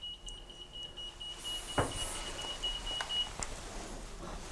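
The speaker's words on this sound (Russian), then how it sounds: "Вообще у каждого зеркала прибор пищит." A steady high electronic beep tone holds for a few seconds over a low background hum, then cuts off; no voices.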